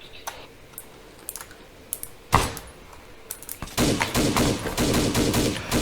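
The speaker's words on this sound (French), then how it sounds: "Attention, on prend des tirs sur nous." Gunfire during a firefight: a few sharp isolated cracks early, then a dense run of rapid shots from about four seconds on, loud and close with steady background noise.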